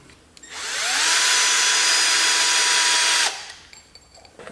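A power drill bores pilot holes into wood for an auto body restoration cart, one loud continuous whine that spins up, holds steady for about two seconds and then cuts off abruptly, with no talk over it.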